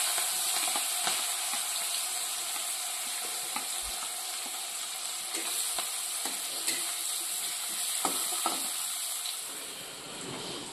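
Ginger, garlic, green chillies and onion masala frying in a village kitchen pan, a steady soft sizzle broken by scattered light scrapes and clicks of stirring.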